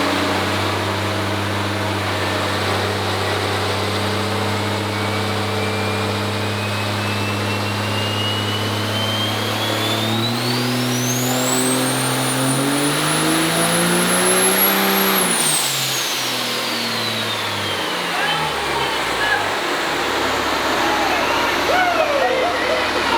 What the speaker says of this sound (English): So we're gonna put this thing through its paces on the dyno today